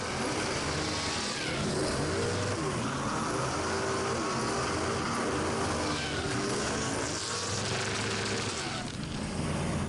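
A V8-powered Nissan S15 drift car of about 800 horsepower, on track at an Australian drifting competition, roaring and revving continuously with fluctuating engine pitch, loud and close, with another car nearby.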